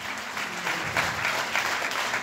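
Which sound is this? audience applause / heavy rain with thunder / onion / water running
audience applause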